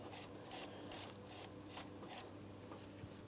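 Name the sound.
wire brush scrubbing an alternator mounting surface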